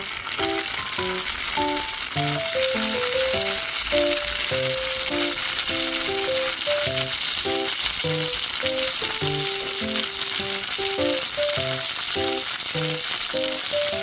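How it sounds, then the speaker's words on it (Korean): Fish cakes stuffed with chili peppers fry in a preheated pan with a steady, close sizzling hiss, while light background music plays throughout. "튀겨지는 소리만 들어도 군침이 돕니다"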